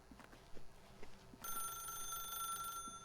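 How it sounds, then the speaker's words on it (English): A telephone rings in The Stanley Parable video game, starting partway through as a steady, bright electronic ringing tone that continues to the end, following soft footsteps. "If you can truly place your faith in another, then pick up the phone."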